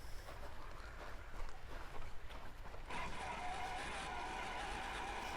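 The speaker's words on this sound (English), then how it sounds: "We're starting to get the sound of the water." Rushing water of a small river on a 10th scale RC crawler course, a steady broadband wash that swells louder and brighter midway through and then keeps flowing close by.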